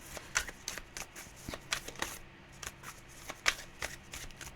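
Tarot deck shuffled by hand, a soft run of crisp card riffles and flicks in uneven bursts, close and fairly quiet with no voices.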